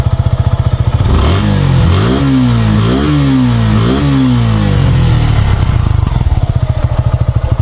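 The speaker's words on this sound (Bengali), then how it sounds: "বাইকটা কিন্তু স্টার্ট করেছি" A Suzuki Gixxer SF motorcycle in new condition, engine running close by, loud idling with several sharp revs in the middle before settling back to a rapid, throbbing idle.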